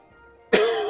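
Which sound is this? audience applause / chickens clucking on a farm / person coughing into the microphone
person coughing into the microphone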